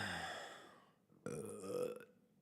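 Two long, drawn-out burps follow one after the other: the first tapers off and the second starts abruptly and is rougher. Both are fairly quiet and close, with no talking.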